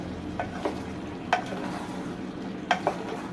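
Eggplant is stirred into potatoes frying in a pan, giving a soft continuous sizzle with four or five distinct spoon scrapes and clinks against the pan, close and clear.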